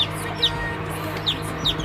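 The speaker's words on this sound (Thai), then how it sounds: "ลูกไก่" Farm chicks, hatched by hens, ducks or a brooder box, peep three times, short, high and sliding downward, above a constant low background drone.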